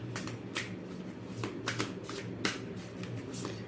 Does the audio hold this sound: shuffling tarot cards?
yes